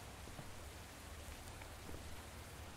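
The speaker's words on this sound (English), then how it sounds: "It's raining outside today." Rain pours steadily outside in a video game, a dense even hiss of drops on surfaces, quiet and unbroken with no voices.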